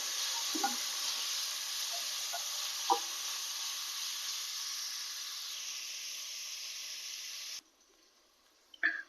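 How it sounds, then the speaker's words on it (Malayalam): Onions and curry leaves sauté in a pan for beef curry, a loud steady hiss of frying with a few soft taps of stirring, cutting off abruptly near the end before a final clatter. "ഒന്ന് വഴന്ന് വരുന്നത് വരെ നമുക്കിതൊന്ന് ഇളക്കി കൊടുക്കാം."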